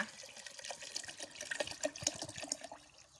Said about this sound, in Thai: ใส่มะนาว ใส่น้ำเปล่านะคะ